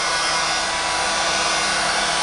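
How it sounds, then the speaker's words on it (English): An industrial hot air gun blows steadily, a loud, even broadband hiss with a constant tone that holds unchanged from start to finish, with no voices over it. "This hot air gun works like a hair dryer, but hot air gun is more powerful and used in industries"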